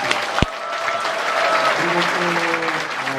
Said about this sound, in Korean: 우리 이분들을 위해서 뜨거운 박수를 보내주셨습니다